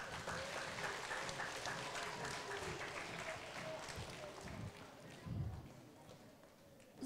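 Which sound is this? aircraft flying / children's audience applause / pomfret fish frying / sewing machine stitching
children's audience applause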